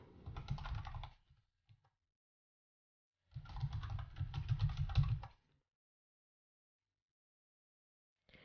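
Typing on a computer keyboard while entering a product tag in a Shopify store, two close bursts of rapid clattering keystrokes separated by a few seconds of silence.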